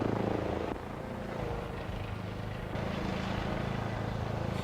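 A helicopter in flight gives a steady, dense rotor-and-engine roar that fills the whole stretch, loud and continuous with slight shifts in tone.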